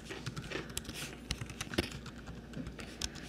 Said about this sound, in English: So I'm typing in my information and my email address now.